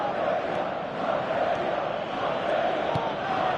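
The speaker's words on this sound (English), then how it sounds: "Crowd appreciates good football all round there" Stadium crowd noise in a football video game on PS4, a steady, dense roar of applause and cheering that holds level throughout without a break.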